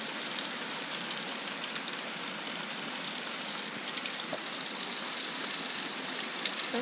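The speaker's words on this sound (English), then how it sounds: "Look at how much rain is there in the distance." Steady rain falls outdoors in winter with snow piles around, a dense, even hiss of drops holding at a constant level throughout with no voices over it.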